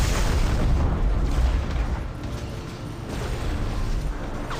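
Robot weapons firing from behind during a War Robots match: a dense, continuous roar of booms and blasts with mechanical clatter, loud throughout and easing slightly midway, with no talk over it.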